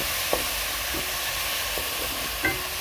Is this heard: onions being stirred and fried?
yes